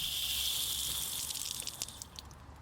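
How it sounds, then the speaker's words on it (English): Water runs and gushes steadily from an opened household faucet with the main supply shut off, a close hiss that tapers into sputtering drips as line pressure drops. "Turn on the faucet to relieve the pressure that's in the water line."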